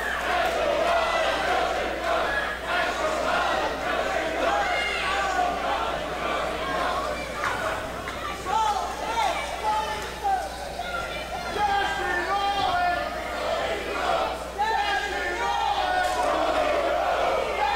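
A capacity crowd at a professional wrestling show cheers and chants steadily throughout, a dense, continuous roar of voices with a commentator talking over it.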